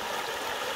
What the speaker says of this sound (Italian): fare una fotografia all'acqua che scorre, al torrente.